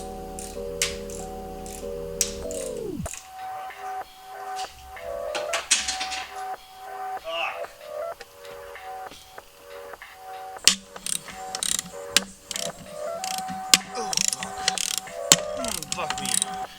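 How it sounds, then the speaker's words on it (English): A hand ratchet driving a 5mm Allen socket clicks rapidly in close bursts while loosening the throttle body bolts on a Nissan G37/370Z engine, with short pauses between runs and brief metallic handling noises. "I'm using this 5mm like Allen socket thing"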